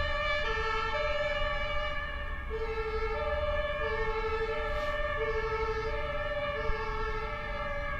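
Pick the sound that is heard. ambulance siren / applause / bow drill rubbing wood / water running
ambulance siren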